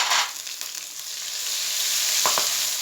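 Turmeric and deghi chili powder hit a hot pan for chicken bhuna masala, giving a steady close sizzle that swells briefly at the start, with a couple of faint clinks near the end.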